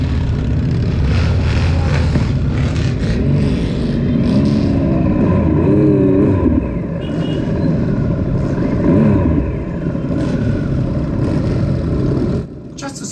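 A motorcycle at a Distinguished Gentleman's Ride charity event in Bishop's Stortford idles loudly nearby, its throttle blipped so the engine note swells and falls in a couple of revs, with a brief voice under it.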